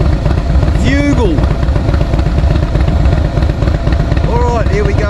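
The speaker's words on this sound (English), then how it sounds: "those Freedom exhaust pipes sound like a church pipe organ ready to go into a full fugal" Close and loud, a motorcycle with Freedom exhaust pipes idles in a deep, continuous, slightly clattering rumble, with a couple of brief voices heard over the engine.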